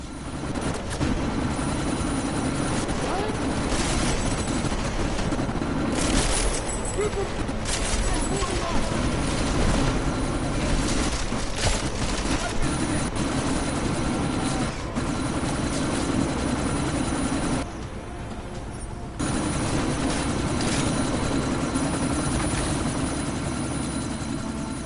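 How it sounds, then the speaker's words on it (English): Helicopter in the video game Deus Ex: a loud, continuous rotor thrum and engine drone fills the whole stretch, briefly dipping near the end, with voices talking over it. "Miller, chopper's been grounded."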